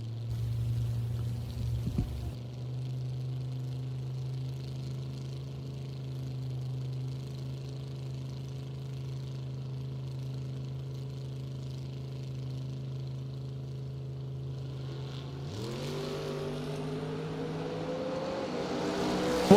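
A Mazda RX-7 drag race car at a Labor Day drag race, its engine idling steadily for a long stretch before revving up sharply near the end, loud and close with no talk.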